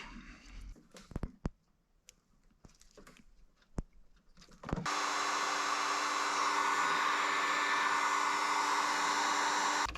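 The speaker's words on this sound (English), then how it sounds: "I'll crimp it down and throw a heat gun on there to weather seal it" Faint clicks and handling come first, then a heat gun switches on with a steady, loud blowing roar to shrink a crimp connector on a running board wiring harness for weather sealing.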